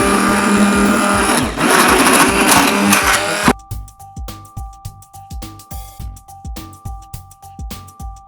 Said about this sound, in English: Now take your blender.